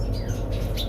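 Belgian Waterslager canary singing at close range, a continuous warbling song with brief high chirps running through the whole second, with no talk.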